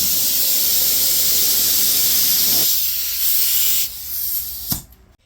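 Spray gun laying a paint coat on a 2018 Ford Escape during a minor rust repair: a steady, loud, close hiss that runs for several seconds, dips briefly, then cuts off sharply.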